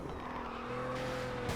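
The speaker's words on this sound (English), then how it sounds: "just a tap of the handbrake's enough to drift us around that corner" Car tyres screech as a handbrake tap throws the car into a drift around a corner, a loud sustained squeal over steady engine roar, close and continuous.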